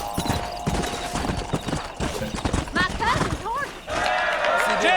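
Horse galloping in the Western video game Red Dead Redemption, rhythmic hoofbeats clip-clopping steadily under game sounds, with people talking over them.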